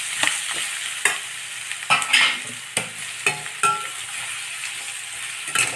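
Three chopped bitter gourds with turmeric and curry leaves are sautéed in oil, a soft background sizzle punctuated by irregular sharp scrapes and clinks of a spoon stirring against the pan.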